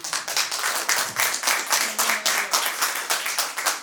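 A concert crowd at a hip hop show in Concepción claps together in a fast, even rhythm, each beat sharp and regular, with a faint voice in the background.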